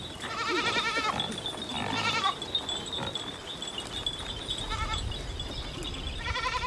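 Mountain-grazing goats from a herd in Trás-os-Montes, Portugal, bleat repeatedly in overlapping bursts, several animals calling near and farther off with faint clinking in the background.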